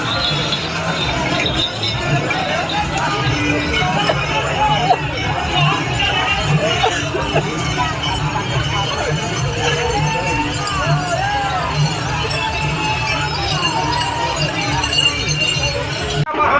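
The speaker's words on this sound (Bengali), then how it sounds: "তারকেশ্বরে প্রথম সোমবারে ভক্তদের ভিড়।" A dense crowd of devotees at Tarakeswar on the first Monday of the yatra pilgrimage: loud, continuous babble of many voices, with scattered clinks and footsteps mixed in.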